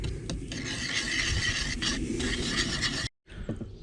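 Fresh eggs and cake batter mixed in a bowl, a steady scraping and rubbing stir that runs continuously at close range, then breaks off briefly before a few softer strokes.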